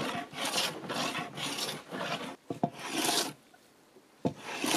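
A hand plane is pushed along a wooden workbench top to flatten it, giving a run of long, rasping strokes with brief pauses and a quieter gap near the end.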